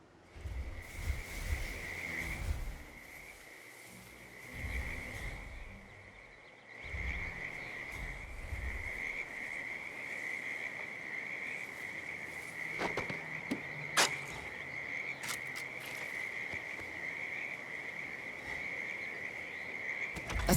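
Frogs croaking near a creek in the Hitman 2 game world, a steady chorus of repeated calls with a constant high insect-like trill running throughout, moderately loud and unbroken, with no talking.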